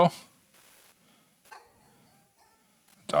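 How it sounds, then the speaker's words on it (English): Dogs barking at the neighbors give a few short, scattered barks, one at the start and one at the end, with quiet gaps and faint sounds between. "Dogs are barking at the neighbors again."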